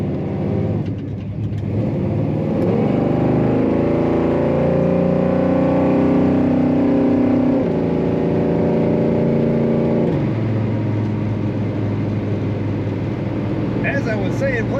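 A 1969 Pontiac GTO hardtop engine revs up from idle, rising to a strong sustained roar, then dropping back to a steady idle, with someone talking over it.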